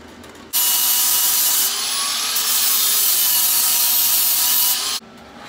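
A power saw cuts a piece of stock to length for a battery tray, a loud, continuous, even whine that starts abruptly and stops about four and a half seconds later, with no talking.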